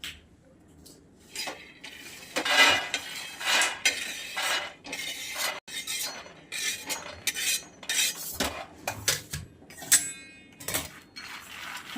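Peanuts dry roast in a pan while being stirred, making irregular bursts of rattling and scraping with short quiet gaps between strokes, close and fairly loud.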